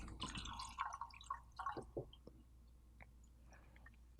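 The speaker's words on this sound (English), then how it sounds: "I didn't mean to interrupt you with the bottle pour." A drink is poured from a bottle into a glass, a close gurgling trickle followed by scattered drips and small clinks in a quiet room.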